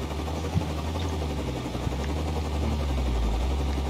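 A helicopter in a video game ring road race, heard as a steady, fairly loud rotor-and-engine drone that holds on throughout with no talk over it.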